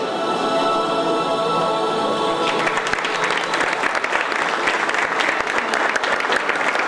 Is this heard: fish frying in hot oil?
no